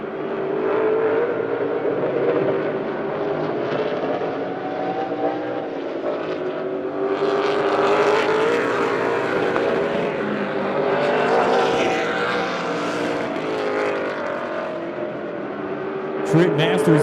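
Race cars roaring around the Lebanon I-44 Speedway oval during a heat race, a loud continuous engine drone rising and falling as cars pass, with a race announcer talking over it throughout.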